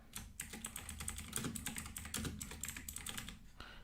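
Steady, fast typing on a computer keyboard while entering HTML tags, a dense run of close clicking keystrokes that lasts a few seconds with no talking.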